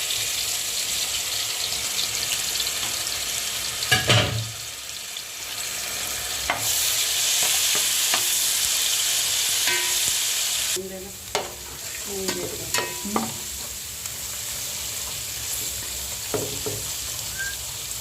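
Steady sizzling of ginger and garlic frying in hot oil, loud and continuous, with occasional clinks and stirring scrapes of a utensil in the pan.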